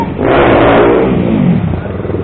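A motorcycle engine revs hard and close during stoppie stunt practice on a group ride, a loud sustained roar that swells and then eases off over about two seconds.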